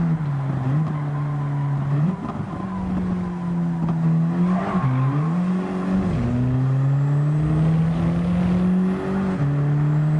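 Race cars in Gran Turismo 7 run the final lap of an online race: a loud, continuous engine drone shifts pitch through gear changes and braking, with faint tire noise and no talking.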